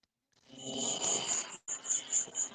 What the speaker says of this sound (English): Is that a dog snoring?